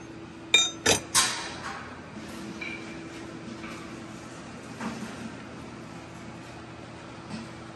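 Small metal hardware pieces such as lag screws and rivets clink sharply, three bright knocks close together, then scattered faint taps over a quiet background hum.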